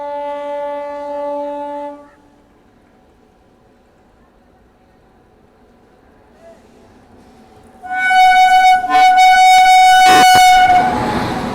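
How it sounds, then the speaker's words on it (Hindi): The Hatia Pune Express overtakes on a parallel track with a loud, close horn blast, then a roaring rush of wheels and carriages. A quieter horn sounds earlier, and a voice talks in the gaps. "हटिया पुणे एक्सप्रेस आ चुकी है ओवरटेक करने के लिए हमें"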